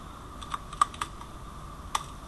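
A handful of separate keystrokes click sharply on a computer keyboard while Android code is typed, four distinct taps spaced irregularly over a quiet room hum.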